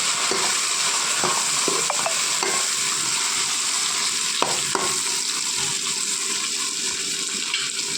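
Tomatoes sizzling in a pan for vermicelli chicken biryani, a steady close frying hiss with faint stirring clicks and scrapes throughout, no talking.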